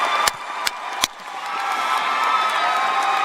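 Audience at a graduation ceremony cheering for a student speaker, a broad steady roar of voices with a few sharp claps near the start, building and holding loud through the end.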